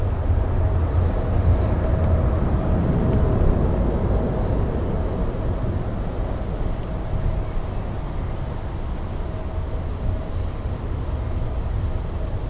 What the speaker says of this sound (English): Really nice departure. Emirates triple heading back to Dubai.